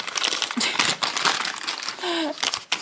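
Paper crinkles and rustles loudly and close up as a package is unpacked, in irregular bursts of crackling. A voice is briefly heard near the end.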